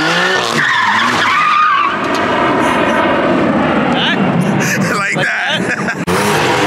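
A car doing donuts lets out loud, sustained tire screeches that rise and waver, close by, while people talk and shout excitedly over the skidding.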